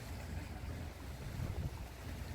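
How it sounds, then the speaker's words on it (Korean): Steady ocean surf at the seashore on a Japanese island, a continuous soft wash of waves with wind rumbling against the microphone, and no voices. "바닷소리 너무 좋네요"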